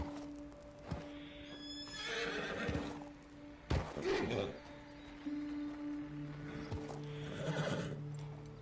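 Horse in the Red Dead Redemption 2 video game neighs and whinnies several times between clip-clopping hooves and short thuds, fairly close and moderately loud.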